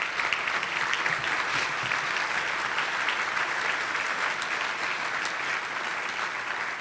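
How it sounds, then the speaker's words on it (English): A luncheon crowd at a foundation keynote gives a long round of applause for young bikers, with many hands clapping in a steady, full roar that tapers slightly toward the end. "can you guys stand up wherever you are and give these guys a round of applause?"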